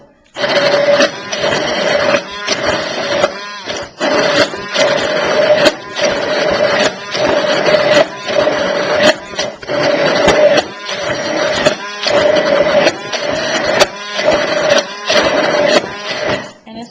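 Cooked beans are ground into a smooth dip in a motorized appliance, giving repeated bursts of steady whirring hum, each running about a second and a half and then briefly stopping, loud and close.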